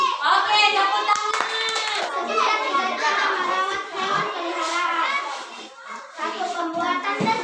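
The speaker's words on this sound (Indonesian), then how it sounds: "Oke, tepuk tangan." Schoolchildren in a classroom lesson clap their hands together in a lively burst, a crowded patter of small hands mixed with excited young voices chattering and calling out throughout.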